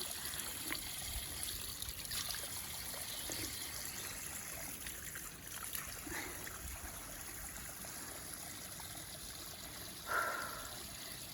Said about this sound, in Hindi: पानी का चश्मा।